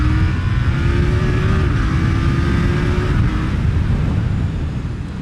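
A KTM Duke 890R motorcycle engine pulls hard under acceleration, its tone rising and stepping through gears over loud, steady wind rush, heard from the rider's position with no talk.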